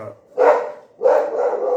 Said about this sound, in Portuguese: chegou alguém e o cachorro está latindo